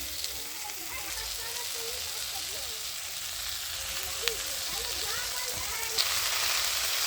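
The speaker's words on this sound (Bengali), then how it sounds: "এবারে আমি কেটে রাখা ফালকুর শাকটা দিয়ে দিচ্ছি" Chopped thankuni greens drop into a pan of frying potato and eggplant, giving a steady, close hiss of sizzling oil with faint scattered clicks and one or two sharper ticks.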